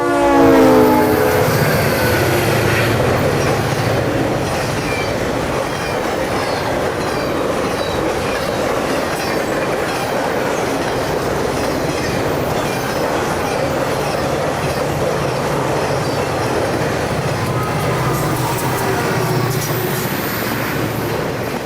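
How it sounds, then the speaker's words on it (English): Conrail eastbound TV100 intermodal and westbound ML435 freight trains meeting north of Palmyra, a loud, continuous rumble of passing railcars with wheel clatter and some squeal, and a brief horn blast at the start. "We're just in time for a meet between an eastbound TV100 intermodal train and a westbound ML435 heading to Sterling,"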